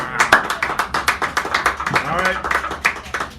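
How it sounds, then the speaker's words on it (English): A small café poetry-hour audience in San Francisco claps in a dense, rapid patter throughout, close and lively, while a voice briefly speaks over the applause. "Give her a round of applause as she comes up here."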